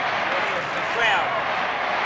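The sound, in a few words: football crowd chanting at the 1987 Sydney v Fitzroy match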